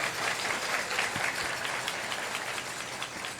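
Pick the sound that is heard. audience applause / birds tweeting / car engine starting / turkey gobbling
audience applause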